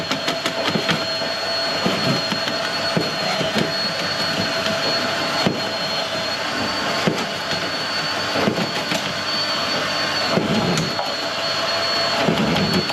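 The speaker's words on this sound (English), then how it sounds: "what this machine does is, as it goes through the pipework, obviously the cable's spinning, so that just cuts up anything that's in the pipework" Drain cleaning machine spinning its cable through blocked pipework, a loud continuous mechanical whir with rattling and knocking throughout, steady and close.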